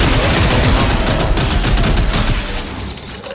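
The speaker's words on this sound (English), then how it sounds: "These new rifles though, I know they're military, but they definitely feel slightly overpowered to the previous games" Loud, dense bursts of military rifle fire in the video game Dead Space 3 rattle continuously in rapid automatic volleys, easing slightly at the end, with no speech over them.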